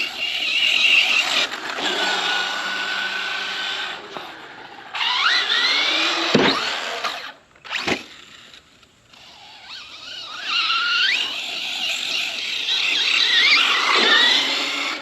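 An RC monster truck's electric motor whines and revs in sharp bursts during tricks and flips, with tire squeals and brief silent gaps between runs, fairly close and loud.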